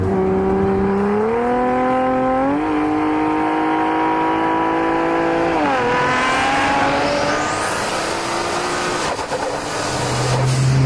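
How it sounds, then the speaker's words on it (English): A 1400-horsepower AMS Performance Alpha 12 Nissan GT-R accelerates hard through several gears, its loud engine note climbing in pitch with each shift, then easing into turbo hiss and wastegate flutter near the end. "This car has a beautiful cacophony of mechanical sounds."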